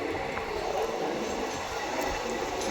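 A new LHB rake of the Howrah–New Delhi Special made up of general coaches runs with a steady, even rumble and rushing noise throughout, with no distinct clacks standing out.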